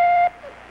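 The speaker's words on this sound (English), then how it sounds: "Now wait for the beep." An answering machine gives one steady, loud electronic beep lasting about a quarter second, followed by faint room noise.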